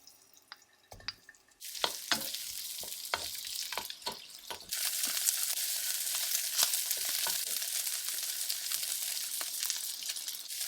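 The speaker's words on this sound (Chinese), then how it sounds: "开大火，这是同一个锅子，加入1汤勺的油，加入虾仁，" Shrimp frying in a tablespoon of oil in a wok over high heat: after a quiet start with a few clinks, a loud steady sizzle takes over, rising further midway and broken by scraping stirs.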